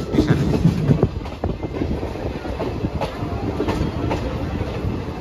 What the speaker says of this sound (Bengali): প্রায় 17 মিনিট লেট করে ট্রেন এবার প্রবেশ করছে বোলপুর শান্তিনিকেতন স্টেশনে